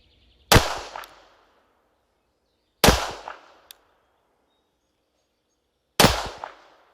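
Three sharp, loud pistol shots from a Girsan MC14T firing Winchester ammunition at about 5 yards outdoors, each cracking with a short ringing tail and separated by a few seconds of quiet.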